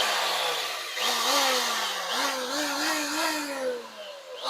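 Craftsman 315.17381 router running after a trigger repair, its motor whine rising and dipping in several short surges, close and fairly quiet, with no voices.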